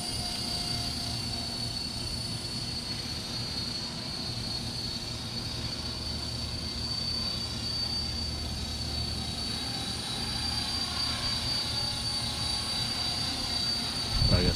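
A 450-size RC helicopter flies in wind beside a house, its steady high-pitched rotor and motor whine droning continuously at moderate distance, with wind noise underneath.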